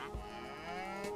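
A single drawn-out cow moo from cattle in the video game Age of Mythology: Retold, a clear, moderately quiet lowing call lasting about a second.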